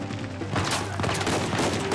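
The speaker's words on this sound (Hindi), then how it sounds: "उधर से गोलियां पड़ रही है, लेकिन बहुत दूर है वो लोग." Gunfire crackles in a firefight in Uncharted 4: A Thief's End. A dense, continuous burst of shots runs for the whole two seconds at moderate loudness and sounds fairly distant.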